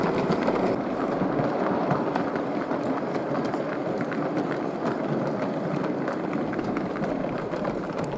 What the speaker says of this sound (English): the loco enters the station environs under control of the typical Great Eastern signal box.